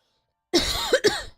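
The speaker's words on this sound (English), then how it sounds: "Sorry for coughing." A person coughing near the microphone, a short burst of two or three harsh rough coughs after silence, lasting under a second.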